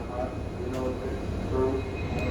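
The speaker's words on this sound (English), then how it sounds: "So this is the locomotive that's hauling our train." WDP 4D diesel locomotive at Mangalore Junction, a steady low engine rumble idling close by with faint clanks over it, continuous and moderately loud.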